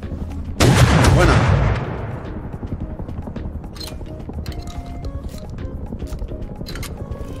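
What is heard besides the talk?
gunshots in video game Rust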